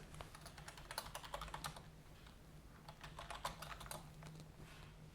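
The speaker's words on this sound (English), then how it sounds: "Typing in the wrong place" Rapid typing on a computer keyboard, bursts of crisp key clicks with short pauses, close by over a faint background hum.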